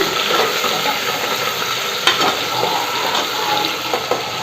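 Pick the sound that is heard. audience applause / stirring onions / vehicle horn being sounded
stirring onions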